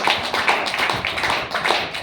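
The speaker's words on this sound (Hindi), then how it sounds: "उनके लिए जोरदार ताली बजाइए" Audience applause at a DXN business achievement event in Badlapur, dense steady clapping from many hands lasting about two seconds with no voices.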